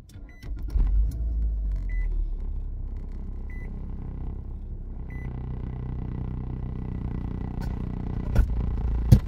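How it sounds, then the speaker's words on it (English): Car engine starting up inside the vehicle, a low rumble settling into a steady idle with periodic electronic chimes and a few clicks and knocks near the end. "So sorry about the noise, guys, but I'm turning my car on."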